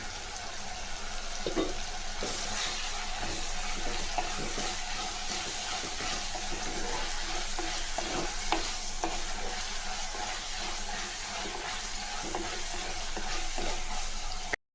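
Green chillies and curry leaves fry in a pan for onion masala, giving a steady close sizzle with repeated spatula scrapes and stirring clicks for about fifteen seconds, with no one speaking.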